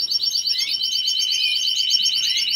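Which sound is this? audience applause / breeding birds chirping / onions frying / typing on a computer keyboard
breeding birds chirping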